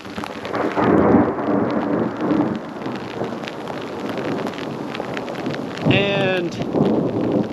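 Rain hisses steadily on a mountain trail during a thunderstorm in Great Basin National Park, with rolling rumbles of thunder, wind gusts across the microphone and a brief voice near the end.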